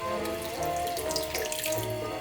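Tap water runs steadily into a cooking pot of tripe sauce on a wartime rationing stove, a continuous close splashing gush with no voices.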